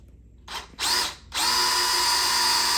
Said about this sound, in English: So now I got to auger it out a little bit more.